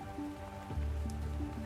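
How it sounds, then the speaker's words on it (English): Heavy rain falls steadily in the lowlands, a dense wash of drops on surfaces, close and continuous, with no voices. "Rain does not fall gently in the lowlands."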